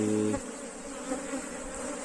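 Honeybees hum steadily and close while a colony is being split into a new one, a continuous buzzing drone after a brief louder tone at the start.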